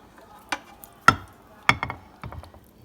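Shrimp discada with cheese and chipotle is moved from a pan into an oven-safe dish, giving a few sharp scraping and clinking knocks of utensil against cookware, spaced irregularly and close by, with no talking.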